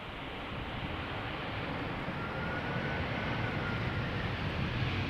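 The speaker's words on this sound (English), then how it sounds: "Air France flight 1444 arriving from Paris," An Air France Airbus A320 arrives from Paris Charles de Gaulle at Amsterdam Schiphol, its engines giving a continuous distant rumble and whoosh that swells slightly toward the end, with no voices.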